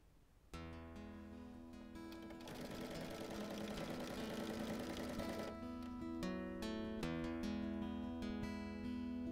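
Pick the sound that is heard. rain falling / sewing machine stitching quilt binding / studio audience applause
sewing machine stitching quilt binding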